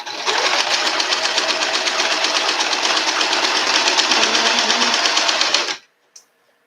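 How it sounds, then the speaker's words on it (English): Domestic sewing machine fitted with a seam guide foot runs a steady, continuous rapid stitching whir for nearly six seconds, loud and close, then stops abruptly with a faint click afterward. "I'm using a seam guide foot on this machine just because I want it to stay consistent"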